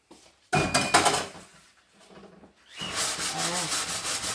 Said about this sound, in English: Just scrape it off, you know, like there's stuff stuck in there that the scrubby cannot get. I use that knife.